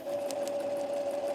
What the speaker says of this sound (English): Is that Debbie's sewing machine